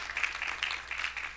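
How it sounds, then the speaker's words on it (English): Brief applause from a university audience honoring a dean at the Price Center, a steady wash of clapping that stays even and moderately loud throughout with no voices over it. "A round of applause for Big Al."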